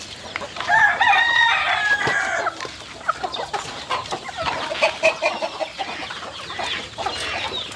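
A flock of about 100 free-range native country chickens on a small farm cluck and squawk close by, with a rooster's crow early on and overlapping bursts of hen calls throughout.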